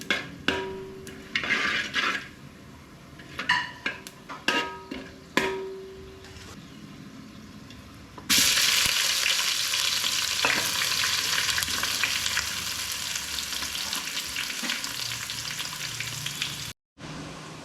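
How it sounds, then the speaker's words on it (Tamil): Sliced onions with poppy seeds fry in a pan for ghee rice, first with several sharp metal clanks and scrapes from stirring, then a loud, steady, continuous sizzle for nearly ten seconds before cutting off; no voices. "வெங்காயம் நல்லா வதங்கிருச்சு, லைட்டாக ப்ரௌன் கலரில் ஆயிடுச்சு."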